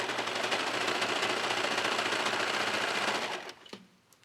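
Sewing machine stitching through a thick sweater seam, a fast steady mechanical whirr with rapid needle chatter for about three seconds, then stopping with a faint click.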